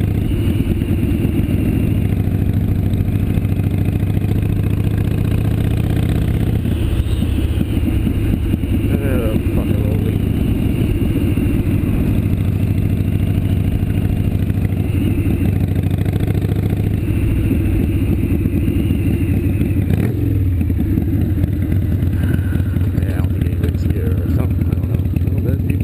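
A Harley motorcycle engine runs steadily and loudly while riding, a continuous close rumble with wind roar throughout, as someone talks over it.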